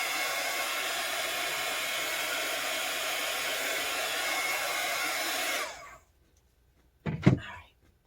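A hair dryer blows steadily and loudly up close, drying a coffee-soaked paper page, then switches off, followed by a short thump.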